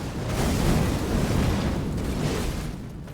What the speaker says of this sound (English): She's trying to use a smoke grenade.